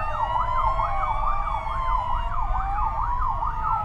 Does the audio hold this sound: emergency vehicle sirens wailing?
yes